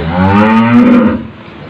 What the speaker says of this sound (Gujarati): હવે હું તમને વાછરું અને ગાય બે બતાડું